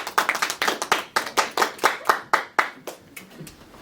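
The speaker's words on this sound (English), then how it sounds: "a rousing round of applause" Audience clapping for writing award winners at a college honors ceremony, a close, crisp burst of individual hand claps in a quick uneven rhythm that thins out toward the end.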